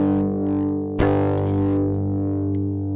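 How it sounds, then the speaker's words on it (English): A sustained, heavily distorted guitar chord through an Electro Kittie distortion pedal rings out with a buzzing, saturated tone, briefly interrupted by a sharp click before droning on. "we'll tame things, but also introduce some more kind of unpleasant distortion"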